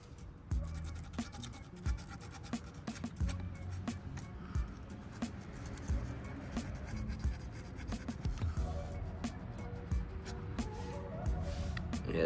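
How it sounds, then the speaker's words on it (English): Small Dremel sanding disc grinding curb rash off a car wheel's outer edge and spokes, a close, continuous scratchy abrasive rasp with irregular scraping bursts throughout, no talking. "All I have for sanding today are these little sanding discs that I have for my Dremel."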